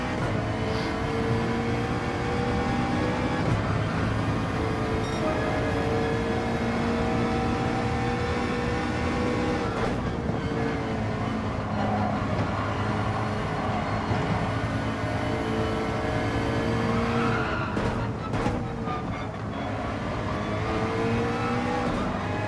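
Lamborghini and other race cars in a racing video game league race, engines droning and revving continuously at high pitch, with gear shifts and cars passing close by.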